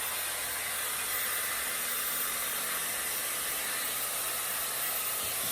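A Bondi Boost air styler runs on its heat setting, giving a loud, steady broadband hiss of blown air that holds evenly from start to finish with no talking.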